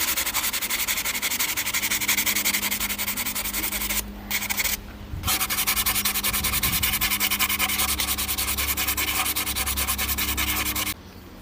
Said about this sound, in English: Now with the 2000 grit sandpaper, sand this four places where the bolts will screw.